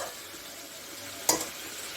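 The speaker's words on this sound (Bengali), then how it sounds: "মিষ্টি কুমড়োটাকে একসঙ্গে আমি একটু মশলার সঙ্গে কষিয়ে নেব" Pumpkin being sautéed with spices in a low-oil pan with a little water, a soft steady sizzle under one brief sharp stir or clink of a utensil midway.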